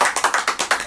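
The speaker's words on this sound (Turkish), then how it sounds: "Bir alkış alalım bakalım." A small group claps in a short, quick burst for an older man from Sürmene, Trabzon, during a TV interview, with about eight sharp, evenly spaced claps close to the microphone.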